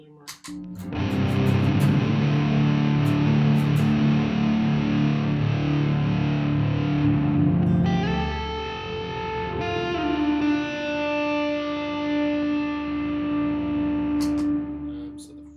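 Electric guitar played through the fuzz (muff) side of a Loomer pedal in a shoegaze rig, producing a loud, thick wall of sustained distorted chords that shift to a brighter, ringing voicing partway through.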